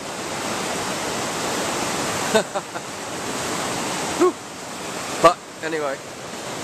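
A raging, swollen river running very high gives a continuous, loud rushing roar, with someone briefly speaking over it and a few soft knocks.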